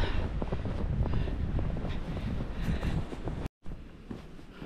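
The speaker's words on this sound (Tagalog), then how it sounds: "Medyo lumalakas-lakas na yung hangin." Strong wind gusting steadily across a snowy mountain trail in Riding Mountain National Park, a broad close roar buffeting the microphone, cut by a brief dropout near the end.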